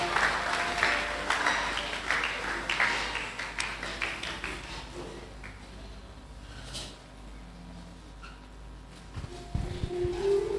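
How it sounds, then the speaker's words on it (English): A church congregation claps in sustained applause that gradually fades, with scattered voices and a few cheers rising near the end. "Put your hand together for Jesus"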